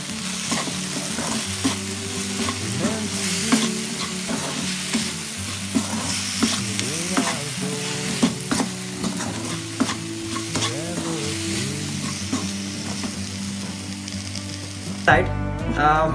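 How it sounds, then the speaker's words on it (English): Garam masala is stirred into sizzling wheat rava pongal, with a steady sizzle under repeated scraping stirs of a spoon in the pan, close and continuous for the full length, ending in a brief louder clatter. "Add the garam masala and give a mix."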